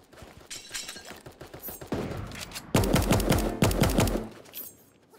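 Video game gunfire in rapid, rhythmic automatic bursts, sharp and close, starting lighter and then swelling into heavier sustained volleys before fading out, with no talking over it.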